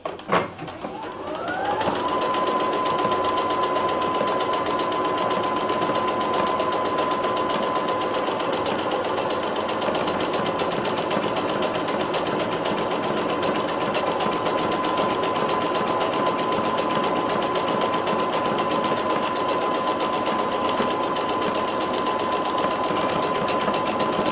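A home sewing machine stitches a buttonhole on a jacket, a steady fast mechanical whir with an even high hum that runs loud and unbroken after a brief start-up, with no voices over it.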